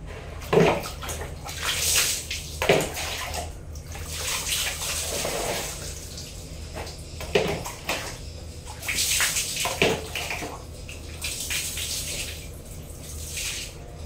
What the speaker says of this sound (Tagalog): So, ayan, pinupuno ko muna yung tubig ngayon.